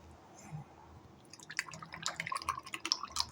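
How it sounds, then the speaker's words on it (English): Liquid poured out of an electric shaker bottle, a run of close drips and splashes that starts faintly and grows busier and louder toward the end, with no talking. "Let me pour this out."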